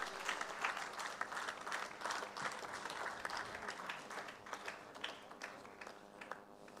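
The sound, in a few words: applause at a conference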